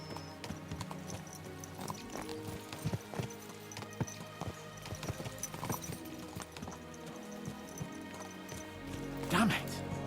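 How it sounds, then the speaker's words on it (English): Horses' hooves clip-clop at a gallop across ten seconds in the medieval game Kingdom Come: Deliverance II, with steady rhythmic thuds and a whinny near the end, all set under a continuous musical score. "Let's really spur these horses on, eh?"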